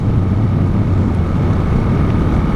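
A 2015 Honda CG 150 Fan ESDi motorcycle engine runs steadily up close, a loud, even low rumble with a faint whirring, unbroken throughout and with no talking.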